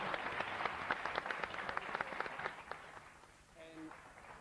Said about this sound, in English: Give yourself a final round of applause.